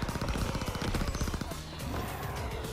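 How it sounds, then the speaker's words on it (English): Loud, rapid automatic gunfire from a Call of Duty Nazi Zombies boss fight hammers away in a dense, continuous burst, close and heavy, easing slightly toward the end. "Keep shooting him."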